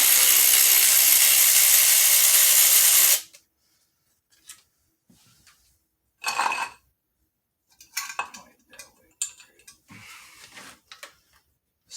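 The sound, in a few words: cordless screwdriver with socket backing out valve cover bolts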